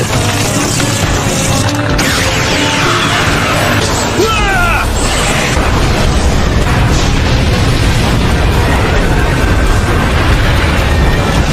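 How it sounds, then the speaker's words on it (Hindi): A loud, sustained explosive rumble from an anime fight scene with crashing bursts fills the whole stretch, dense and roaring throughout, with dramatic effects layered over it. "ये एक्सप्लोजन 10 किलोमीटर तक होगा।"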